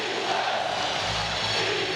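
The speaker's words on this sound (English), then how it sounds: "Defense is the chant." An arena crowd at a 1994 Stanley Cup Final hockey game between the Canucks and Rangers chanting in the closing minutes, a loud rhythmic rumble of massed voices.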